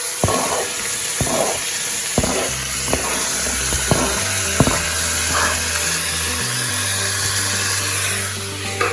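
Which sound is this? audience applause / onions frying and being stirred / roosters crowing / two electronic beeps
onions frying and being stirred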